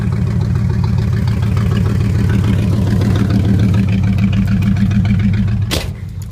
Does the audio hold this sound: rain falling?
no